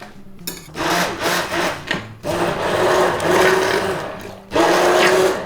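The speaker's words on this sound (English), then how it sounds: "We're gonna give this a quick immersion blend and then let it cook." An immersion blender whirring through tomato pizza sauce in short close bursts, a loud motor drone that cuts off and restarts several times with brief pauses between runs.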